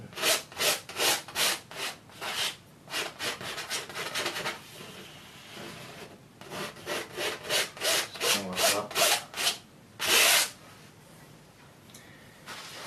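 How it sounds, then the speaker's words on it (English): A palette knife scrapes excess wet oil paint off a canvas in a wet-on-wet painting, producing repeated rhythmic rasping strokes, close and fairly loud, with a few brief pauses. "Scrape off the excess paint."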